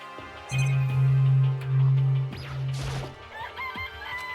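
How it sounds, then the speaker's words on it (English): Chickens in the game Danganronpa: a loud, drawn-out crowing call sustained for about two seconds, then trailing warbles and short clucking sounds, heard alone without talk. "This place even has chickens, huh?"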